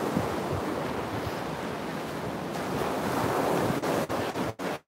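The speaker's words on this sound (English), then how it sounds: "I'm on a public beach, it's fine." Surf and gusting wind on a public beach, a continuous broad wash of waves with heavy wind buffeting the microphone, loud and steady throughout with no talk.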